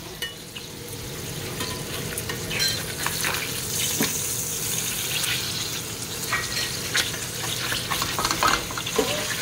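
Burgers fry in a pan with a steady, close sizzle and crackle, plus occasional scraping and light clinks over the bubbling fat, and no voices.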